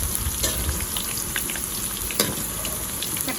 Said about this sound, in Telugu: బెండకాయ ఫ్రైని అయితే ఇలా డీప్ ఫ్రై చేసుకోవాలి